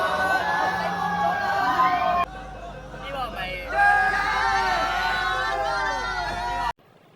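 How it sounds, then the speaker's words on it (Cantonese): Large crowd of railway enthusiasts at a Hong Kong MTR Tsuen Wan line station, cheering and yelling together as the new China-built Q-Train urban line train pulls in; loud, sustained crowd noise with whoops, cutting off abruptly near the end. "當 Q-Train 入站嘅時候，大量鐵路迷同時歡呼。"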